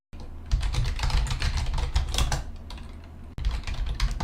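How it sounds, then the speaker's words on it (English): Quick typing on a computer keyboard, close and clear, with dense clattering keystrokes running almost continuously and one brief pause near the end. "record a sample of the keyboard noise"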